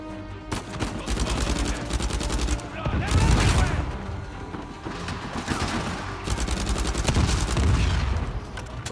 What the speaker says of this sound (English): Why am I even shooting these dudes?